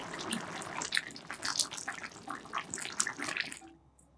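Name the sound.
tuna oat porridge bubbling in a pot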